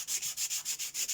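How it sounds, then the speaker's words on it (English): A normal nail file rubs back and forth over a decoupage journal cover, making a quick, even series of about a dozen soft, scratchy strokes close up. "I'm just using a normal nail file."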